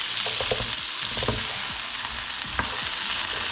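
Duck confit sizzles and fries steadily in a pot, a continuous close crackle with occasional stirring clinks and scrapes over the bubbling fat.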